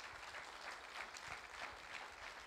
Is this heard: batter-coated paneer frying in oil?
no